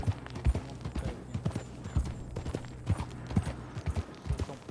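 Horse hooves clip-clop steadily in Red Dead Redemption 2, an even rhythmic trot of distinct close hoof strikes over a low ambient background, with no talking.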